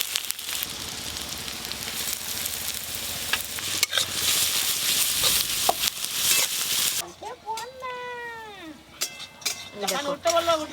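Chopped onions frying in a kadai for chicken rolls: a loud, busy sizzle with stirring for about seven seconds, which then stops and gives way to voices and meow-like cries.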